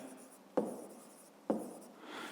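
A pen writes on paper during a fifth-grade maths exercise, two short scratchy strokes sounding close and quiet with a faint rustle between them.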